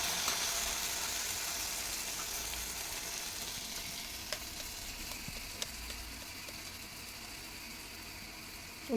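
Garelu, lentil fritters, frying in hot oil, a soft steady sizzle with a few faint clicks, fairly quiet and without talk.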